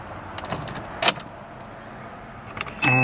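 A key goes into the ignition of a Porsche Boxster and is turned on, with a few soft jangles and clicks followed by an electronic chime and a rising whir of systems powering up, close inside the car.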